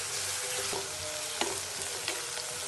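Garlic and onion fry in a pan for a dhaba-style potato and capsicum curry, a steady close sizzle with a few soft stirring clicks and scrapes, no voices.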